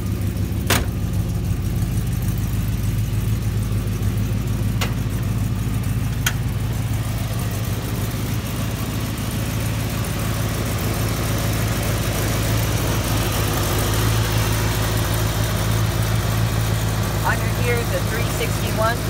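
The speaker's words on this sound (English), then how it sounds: "Here's a 361 V8 engine, fully pre-built, has air conditioning, and an upgraded alternator." A 1959 Dodge Royal's 361 V8 engine idles steadily under an open hood, a low continuous rumble heard close up with a few faint clicks and knocks, while someone talks over it.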